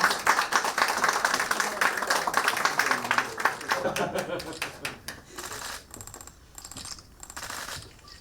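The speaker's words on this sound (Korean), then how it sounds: "협약상 안 들고 계신 분들께서 박수를 한번 부탁드립니다" Guests at a hotel construction business agreement signing ceremony clap together, a busy round of applause lasting about five seconds, then fading into sparse claps, camera clicks and murmuring voices.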